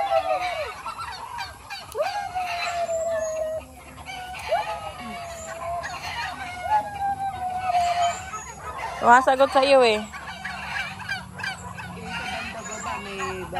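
Turkeys gobble in a farmyard flock alongside chickens and geese, several rapid warbling calls bursting out midway among scattered clucks and honks, with people chatting nearby.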